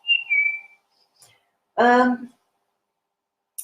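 A person whistles a short, clear note of a Pinocchio tune, followed after a pause by a brief vocal sound.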